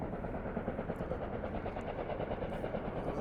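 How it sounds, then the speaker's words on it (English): Helicopter hovering over a Las Vegas resort construction site, its rotor producing a steady, rapid chopping thud that stays faint and distant throughout. "Now the chopper sound you hear behind me,"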